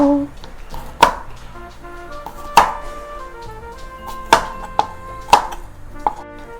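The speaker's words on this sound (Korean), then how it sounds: "통마늘 4개 이렇게 얄팍얄팍 편으로 썰어서 준비를 해 놓을게요" Four whole garlic cloves thinly sliced with a kitchen knife on a cutting board, giving a series of sharp chopping taps at uneven intervals while a voice speaks and soft background music plays.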